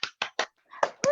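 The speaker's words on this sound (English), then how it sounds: "So can we give a big massive round of applause" One person alone in her room claps with three quick, sharp, close claps, then after a pause gives a couple more, one joined by a voiced whoop.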